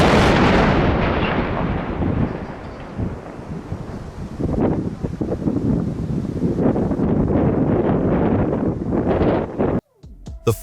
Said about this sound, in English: Even after 3 attempts, the explosives were unable to bring it down.